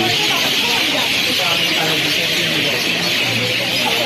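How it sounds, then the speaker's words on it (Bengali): A tree full of mynas chatters with many overlapping calls over a dense, steady wash of outdoor noise, with no clear single bird standing out. "কত বগের বা পাখির আওয়াজ, শালিক পাখির আওয়াজ"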